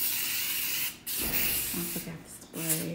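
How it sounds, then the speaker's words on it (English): Aerosol spray can used at home: several close, loud hissing bursts, the first long and steady, the later ones shorter, with a faint voice in the background. "I'm going to spray my home"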